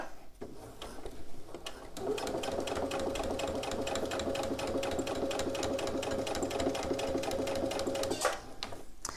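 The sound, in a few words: sewing machine stitching a bag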